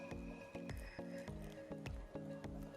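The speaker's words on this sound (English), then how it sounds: "So this is boiling. You can see it's just kind of bubbling on the sides there." A pot of liquid thickened with dissolved potato starch bubbles on the stove, giving off soft, wet plops and gloopy pops in a regular rhythm about twice a second, quiet and close.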